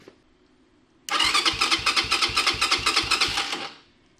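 A Venom X22R 250cc motorcycle with a loose battery cranks after a moment of quiet, its starter churning in a rapid, loud, rhythmic series of pulses for about two and a half seconds before stopping without catching.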